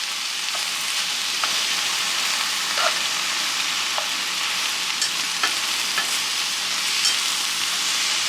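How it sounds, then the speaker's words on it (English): Vinegar and sugar are stirred lightly in a pot in a home kitchen, a steady soft hiss broken by faint utensil scrapes and ticks against the pot at irregular intervals. "Stirring the vinegar and the sugar."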